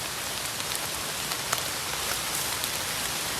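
Steady rain falls and patters on surfaces outdoors during mushroom foraging, a dense, even hiss with scattered sharper drops, close and continuous, with no voices.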